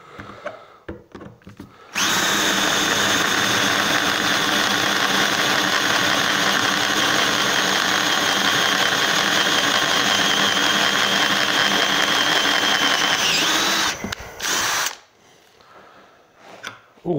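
A Ryobi cordless drill turns a 10 mm bit at first speed, a loud continuous motor whine holding steady for about twelve seconds before cutting off, with quieter handling noise before and after.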